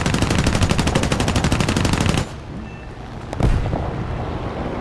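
Aircraft machine guns of an F2A-3 fighter firing in War Thunder during a ground attack run; a loud, rapid, sustained burst for about two seconds, then engine drone and a single heavier impact.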